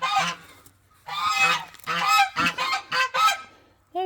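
Geese honk loudly and close in repeated overlapping bursts over about four seconds, a noisy flock gathered in the evening with no talking over them.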